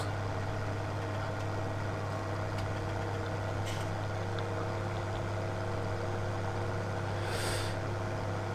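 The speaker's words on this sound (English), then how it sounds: "nice throaty roar on this tractor" A tractor engine idles and runs steadily with a throaty, low, droning rumble. The sound is continuous and moderately quiet, with no one talking.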